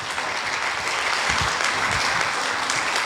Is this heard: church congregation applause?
yes